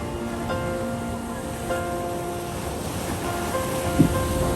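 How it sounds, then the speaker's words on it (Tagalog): Sea waves breaking along the shore in Mindoro, a steady broad wash of surf with a stronger surge near the end, wind noise mixed in. "Ang galing ng dagat ano?"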